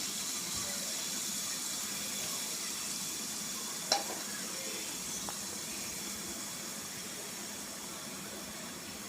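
Prawns fry in a pan with a steady, moderate sizzling hiss, broken by one sharp utensil clack partway through and a fainter tap later.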